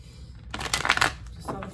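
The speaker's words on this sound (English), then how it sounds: "I don't know, we're shuffling it." Tarot deck shuffled by hand, a brief close riffle of papery flicking that swells and fades within about a second, with soft voice murmur around it.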